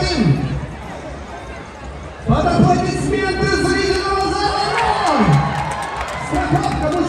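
A circus audience claps and cheers in a large hall, the crowd noise swelling suddenly partway through into sustained applause and whoops, with a voice speaking over it.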